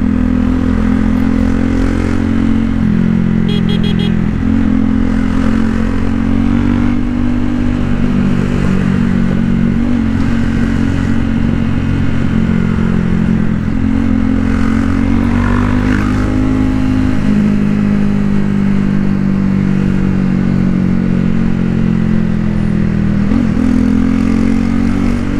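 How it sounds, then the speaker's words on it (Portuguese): A loud, steady motorcycle engine idling and rumbling close by, with a deep throaty exhaust note that shifts slightly in pitch throughout. "O escapamento tá barulhento"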